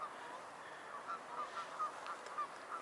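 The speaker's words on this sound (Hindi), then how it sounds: "ये आपने गूंज की आवाज़ सुनी होगी, बड़ी खूबसूरत, ये मुझे बड़ी पसंद है।" Geese honk repeatedly at a distance near a railway in Amsterdam, New York, a loose series of nasal calls spaced through the clip over quiet outdoor ambience.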